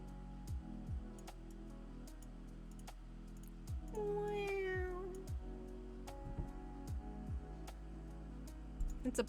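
A cat gives one clear drawn-out meow midway, close and distinct over soft computer keyboard typing and clicks in a quiet room.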